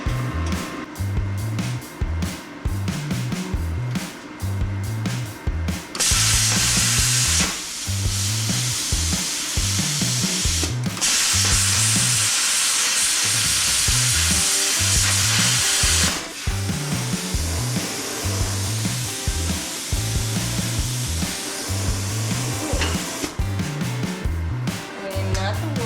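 A BTC500XP plasma cutter slicing thin metal, giving long loud hissing roars that start and stop in bursts over a steady low machine hum, with someone talking between cuts.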